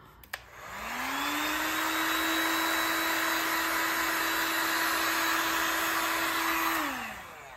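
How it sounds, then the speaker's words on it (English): A heat gun on its lowest heat setting blowing air to dry paint, switching on and spinning up to a steady loud whine and whoosh held for about six seconds before winding down. "I'm just going to speed this up a little bit using my heat gun on the lowest heat"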